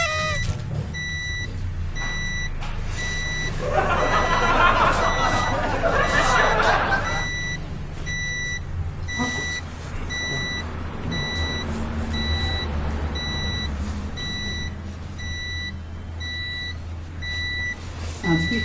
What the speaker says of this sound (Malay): Bunyi-bunyi token ada. Listrik habis.